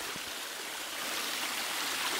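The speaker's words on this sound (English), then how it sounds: "This is all just spring water pouring out." Spring water pours out in a steady, broad rushing wash, close by and continuous with no other sounds.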